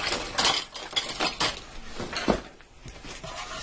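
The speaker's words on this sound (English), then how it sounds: "let me get something to stir that oil around with" A utensil clinks and scrapes against a non-stick Ninja cooker pot while oil is stirred before cooking steak, producing several close, light knocks and scrapes in an irregular rhythm with no talking.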